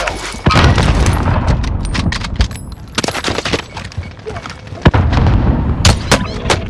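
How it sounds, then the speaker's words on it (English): Gunfire and explosions in Warzone, rapid cracking shots and heavy booms in dense bursts, loud and close throughout the clip. "Receiving hostile fire!"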